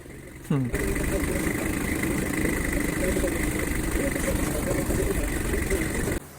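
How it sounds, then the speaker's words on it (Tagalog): A steady engine drones at idle for several seconds, loud and constant, with a brief rising whine near the start before it settles. "Ang ingay ng makina, no?"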